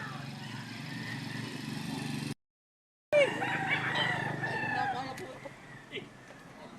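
Fighting cocks crow and cluck at a gamefowl market in Lipa, Batangas, with repeated crowing carrying over a busy background hum and people talking nearby; a short gap of silence breaks the sound partway.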